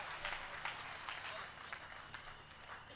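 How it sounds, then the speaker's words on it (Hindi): Quiet applause from the audience at a Hindi poetry gathering held for a guru's birth celebration, an even, distant patter of many hands that slowly tapers off. "आप तालियों से वंदन करिए।"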